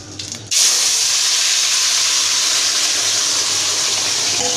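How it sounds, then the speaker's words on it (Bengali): Raw pumpkin curry vegetables drop into a hot pan, setting off a sudden loud, steamy hiss that holds steady and close for several seconds. "এবার তরকারিটা দিয়ে দেবো"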